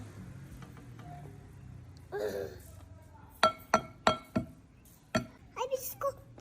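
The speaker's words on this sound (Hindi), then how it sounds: "अब इसको चम्मच मिक्स करेंगे।" A metal spoon clinks against a bowl while mixing mashed potato with salt, chilli and cornflour, giving a run of sharp, separate taps and scrapes close by, with a short voice break among them.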